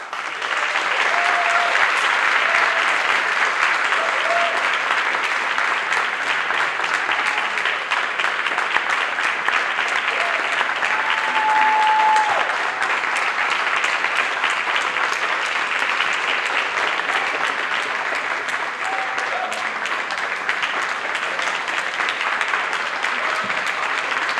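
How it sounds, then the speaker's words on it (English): Audience at a high school senior honors and military recognition ceremony giving a long, loud round of applause, dense steady clapping filling the room for over twenty seconds, with faint voices and occasional whistles beneath. "Let's give these brave men and women a round of applause."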